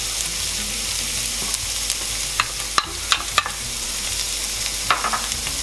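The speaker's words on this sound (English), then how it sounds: "And now just give our onions a good stir fry for a minute or so." Onions stir-frying in hot oil in a pan for a pork and vegetable stir fry: a steady, dense sizzle throughout, with a few sharp scrapes and clicks of the spatula as they are tossed.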